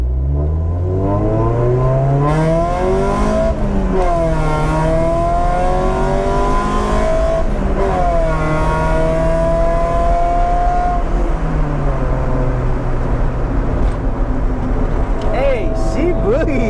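A 1990 Honda CRX Si engine revs hard and continuously, pitch climbing and dropping through gear changes as the car accelerates, loud and close throughout.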